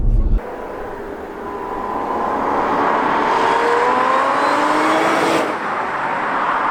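Remapped supercharged Audi S5 accelerating hard, heard from inside the cabin as a rising engine and supercharger whine that climbs steadily in pitch and loudness after a brief burst of noise at the start.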